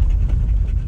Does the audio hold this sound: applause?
no